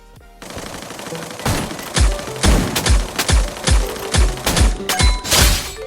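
Rapid bursts of sniper rifle gunfire from the Ice Bones sniper skin in the video game Free Fire, with about nine loud, sharp shots in a steady rhythm after a quiet start.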